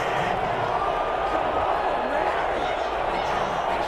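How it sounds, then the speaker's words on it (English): A stadium crowd in the Madden NFL 21 video game, Patriots versus Falcons, roars in a steady, dense wash of disapproval after a roughing-the-passer penalty. "Well, this crowd does not like that call."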